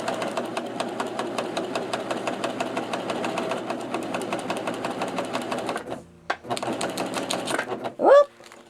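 A Husqvarna Viking Amber Air 600S serger stitches fabric in a rapid, steady mechanical chatter, pausing briefly and restarting before stopping near the end with a short vocal exclamation.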